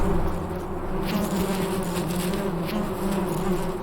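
Diadasia bees swarm prickly pear flowers in the Sonoran Desert, gathering pollen and nectar; a dense, steady buzzing drone of many wings hums close and loud throughout, with no voices.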